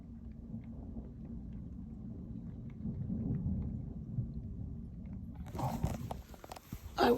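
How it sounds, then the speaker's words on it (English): Thunder rolls through a severe thunderstorm in Timmins, Ontario, a long low rumble building and swelling before sharp, louder cracks near the end, with rain noise underneath. "Thunder."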